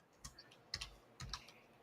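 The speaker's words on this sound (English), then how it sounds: "I was typing." Quiet typing on a computer keyboard, a few scattered key clicks and small bursts of clicks at close range, with no talking.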